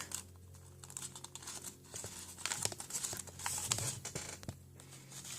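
Paper being folded into an origami manta ray, with soft crinkling, pressing and light tapping of the sheet up close, quiet and irregular.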